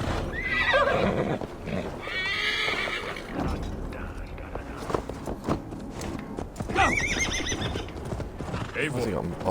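Horse in Assassin's Creed Valhalla neighing with a loud whinny, then hooves clip-clopping steadily nearby while characters talk over the sound.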